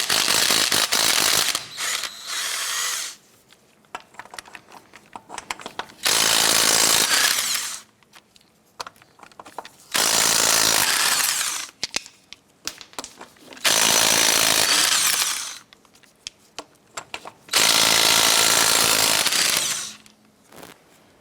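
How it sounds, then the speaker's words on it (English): Power impact tool loosening and removing lug nuts with a 19mm socket on a 1994-2004 Chevy S10, five loud rattling bursts of a few seconds each, separated by quieter clinks and handling. "loosen and remove the lug nuts."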